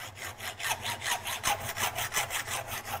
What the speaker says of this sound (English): I'm using my hacksaw to cut the tips off.